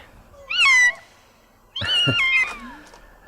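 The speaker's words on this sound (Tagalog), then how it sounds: "Anak ti pusa dagita makitak arimor iti sirok tinatingalan atabla." Two shrill kitten meows from beneath a table, close and clear, separated by a short pause and a faint thud.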